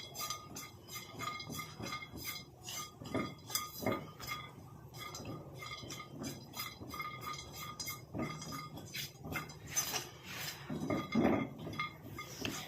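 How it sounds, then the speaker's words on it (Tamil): Almonds being stirred in a pan with a spoon, a quiet, irregular series of clinks and scraping rattles, faint and close, with no talking. "இப்போ இந்த பாதாம் வந்து இந்த மாதிரி ஒரு கரண்டி போட்டு நல்லா இந்த மாதிரி கிண்டி விட்டுக்கிட்டே இருங்க"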